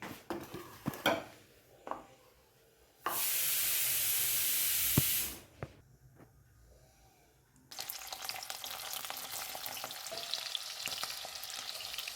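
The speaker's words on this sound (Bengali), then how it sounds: "সবজিগুলো কিন্তু একটা ভাজা হবে আর একটা করে ছাড়বো" Vegetables including beans sizzle and hiss loudly in a hot pan for fried rice, with a burst of intense spitting followed by steady crackling frying.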